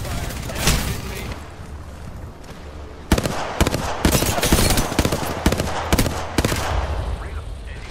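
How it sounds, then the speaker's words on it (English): Rapid gunfire bursts in Apex Legends, with repeated loud shots and firefights clustering in the second half, set over a constant game soundscape. "Shots fired."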